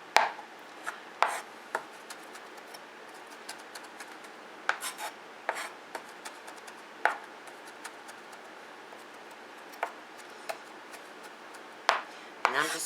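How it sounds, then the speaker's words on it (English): Knife strokes cut through shrimp on a board for a shrimp, tomato, basil and mozzarella bruschetta, giving a scattering of short, sharp chops at an irregular pace, close and moderately quiet with no talking. "And then I'm going to cut up the shrimp"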